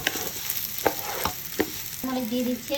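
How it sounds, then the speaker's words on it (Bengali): Polao rice sautés with onions in a pot, a continuous hiss of frying with a few scraping stirs, while someone speaks briefly over it near the end. "বিরিয়ানি কষাই না, পোলাও চাল কষাই"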